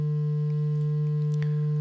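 A steady, unbroken test tone from a sine wave passed through guitar distortion running on a Sigma DSP ADAU1452 board, loud and constant with faint clicks behind it.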